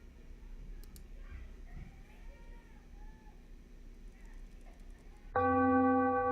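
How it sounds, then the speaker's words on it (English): A meditation bell strikes near the end, its bright, sustained ringing tone swelling loud after a quiet stretch of faint room sound and soft murmuring. "awareness of the sound of the bell and the formal practice of accompanying ourselves through meditation"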